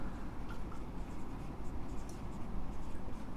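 Steady pen or chalk scratching while a maths question is written out in a Class 10 lesson, a continuous soft scraping over a constant hiss of room noise, with no talking.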